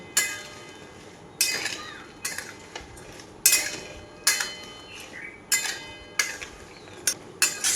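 A spoon repeatedly clinks and scrapes against a jar or vessel as oil-coated mango pickle is stirred and spooned in, a series of sharp, close metallic knocks spaced about a second apart.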